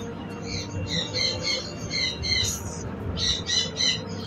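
Red sun conure parrots squawking at a bird market: repeated harsh, loud squawks in quick bursts, some overlapping, over a steady low murmur of background noise.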